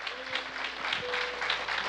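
Applause from a church congregation during a Spanish-language sermon, a broad wash of clapping that holds steady for about two seconds, with a voice briefly heard alongside it.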